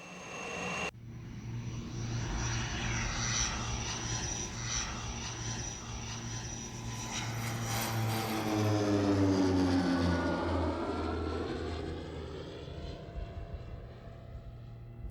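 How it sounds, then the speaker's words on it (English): A low-flying propeller survey plane flies low and slow over the terrain: a steady engine drone swells as it approaches, then its pitch drops as it passes close by and fades, heard alone. "The plane flies low and slow over the terrain to collect data."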